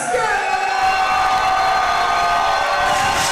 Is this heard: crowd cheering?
yes